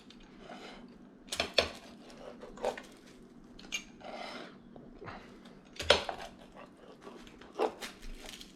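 A knife cuts through a crispy pizza crust made with sourdough and yeast dough at 65% hydration, giving a few sharp crunching cracks spaced apart over quiet room background, close and moderately loud.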